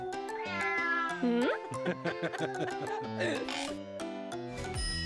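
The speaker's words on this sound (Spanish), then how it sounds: "¡Qué gatita más traviesa! Guarda tus garras." A cartoonish cat meows repeatedly, high and tonal, in the Poppy Playtime Chapter 3 video game, with musical game sounds and brief voice-like bits around the calls.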